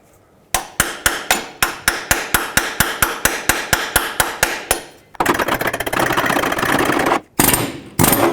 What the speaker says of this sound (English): Use a punch and a hammer.